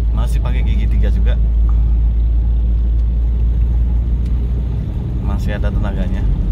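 Mitsubishi Lancer EVO 3 engine droning steadily in third gear, a constant loud low rumble from inside the car with someone talking over it.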